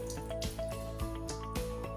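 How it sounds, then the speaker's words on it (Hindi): Water squeezed from soaked phulkiyan (fried gram-flour balls) drips and splashes into a bowl in a home kitchen, with repeated soft wet patters over a steady background hum. "फुल्कियों का पानी अच्छी तरह निचोड़ लें"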